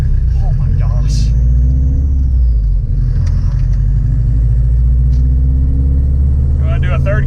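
A straight-piped Subaru WRX bugeye revs and pulls hard from inside the cabin, its loud, raspy exhaust drone rising steadily and filling the whole stretch, with a person talking over it.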